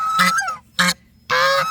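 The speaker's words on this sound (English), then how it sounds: "Sweet, sweet bird." A goose honks three times, loud and close: a drawn-out call, a short blast, then another long honk.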